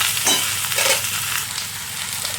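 Ridge gourd bhaji being stirred in an oily pan: a loud, close, steady frying hiss with a few soft scraping strokes near the start, then a more even sizzle.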